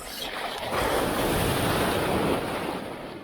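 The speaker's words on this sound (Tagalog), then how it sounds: "Lalaki alon dito." Loud, steady rush of ocean surf, broad crashing wash swelling slightly in the middle, with wind noise over the microphone.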